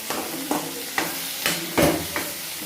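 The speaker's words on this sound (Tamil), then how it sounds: "இதை நல்லா கிண்டி விட்டுக்கலாம் மக்களே" A spoon stirring chutney in a hot pan, with about six evenly spaced scraping strokes over a soft, steady sizzle.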